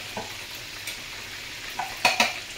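Chicken sizzles steadily as it fries in hot oil, with a few soft scraping stirs and light clinks of a utensil against the pan.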